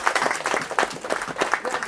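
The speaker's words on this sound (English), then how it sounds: "Let's all give her a round of applause." A wedding crowd applauds after the music, steady close clapping from many hands filling the whole moment without pause.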